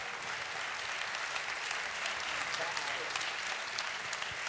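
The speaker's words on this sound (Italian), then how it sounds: "volevo fare io un applauso a tutti gli amici" Audience applause at the Tulipani di seta nera international short film festival in 2018, a steady, dense wash of clapping that holds through the whole stretch with a faint voice or two underneath.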